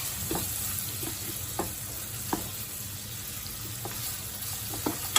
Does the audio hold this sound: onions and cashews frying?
yes